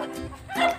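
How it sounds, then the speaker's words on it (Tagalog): Several dogs on a farm give a quick burst of yipping barks, close and brief, with some voice-like sound mixed in. "Yan po, marami pong aso."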